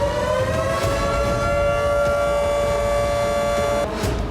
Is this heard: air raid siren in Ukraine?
yes